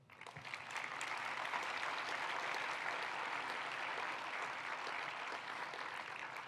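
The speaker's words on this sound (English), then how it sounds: "So please applaud them." An audience at the Goldschmidt 2023 geochemistry conference plenary claps without a break, a dense, steady roar of many hands that holds level for several seconds after a short rise.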